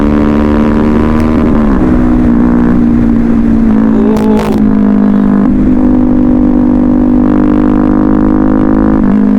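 A Yamaha R15 V3 motorcycle accelerating on a road ride, its engine note loud and continuous throughout, rising in pitch as the rider opens the throttle, with steady wind and road noise and no talk.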